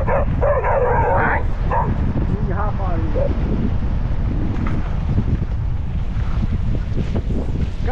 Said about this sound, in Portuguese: Cachorro brabo.